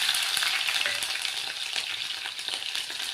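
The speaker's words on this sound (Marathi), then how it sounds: "लसूण थोडंसं लाल झालं त्यामध्ये हिरवी मिरची टाकून घेऊयात." Small chopped green chilies sizzle and fry in hot oil with browned garlic for a fenugreek leaf dish, a close, continuous crackling hiss with light stirring ticks.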